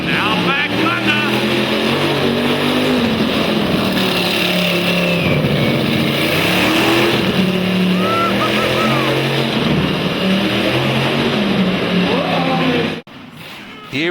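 The Outback Thunda monster truck roars around a very tight little circuit at a monster truck show, its loud engine droning and revving steadily throughout while an announcer talks over it, until it cuts out abruptly near the end.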